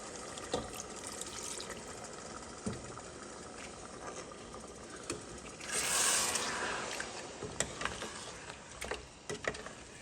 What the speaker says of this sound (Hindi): इस मौके पे हम इसमें पानी डालेंगे। इतना डालना है कि गोश्त गल जाए।